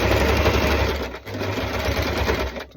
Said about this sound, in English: I'm just going to start with a little back stitch just to lock it in.